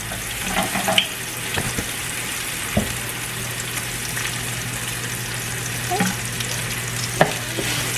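Onions and garlic sautéing in olive oil in a pan, a continuous close sizzle broken by a few sharp clinks and stirring scrapes, no voices.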